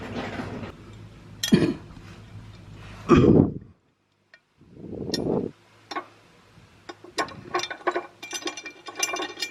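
A screw being driven to fix a running board bracket on a Jeep Commander, heard as close ratchet clicks in short bursts between pauses, ending in a quick run of small ticking clicks.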